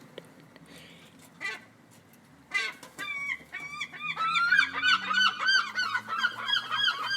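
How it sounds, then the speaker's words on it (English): Gulls calling repeatedly, many harsh honking cries overlapping from about halfway on, close and loud over faint background noise, while the birds feed on crisps outdoors. "Yes, seagulls eat the crisps."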